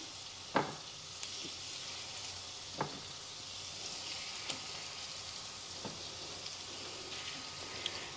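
Pork chops sear in a pan with butter and garlic, giving a soft, steady sizzle with a few sharp pops and clinks scattered throughout. The sound is quiet and close, with no talk.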